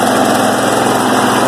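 A lawn mower engine idles steadily and loudly at close range during a test run with mystery oil added and no oil. The drone is even and continuous, with no voices.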